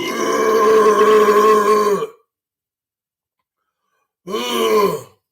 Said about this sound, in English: Sorry, when you got to burp,